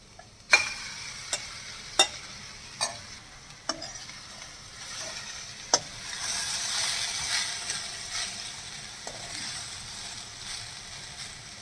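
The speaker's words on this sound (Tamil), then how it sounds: "நம்ம இதை ஆட் பண்ணி மிக்ஸ் பண்ணிடலாம்." Cooked rice and carrot are tossed in a pan over low heat: a series of crisp spatula taps against the pan, then a steady soft scraping and faint sizzle as the mixing continues.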